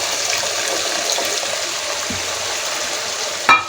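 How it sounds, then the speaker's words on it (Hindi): Dal water is poured into a pot of frying mash lentils at a dhaba-style stove, a steady hissing, trickling wash with a sharp splash near the end and no talk. "ये अब हम इसमें पानी जो था दाल का वो हम इसमें लगा दें।"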